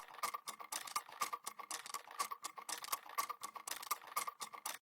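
An organic percussion loop for a melodic house track plays alone, made of busy, crisp tick-like and rattling hits that repeat in a quick, steady groove at a low, even level.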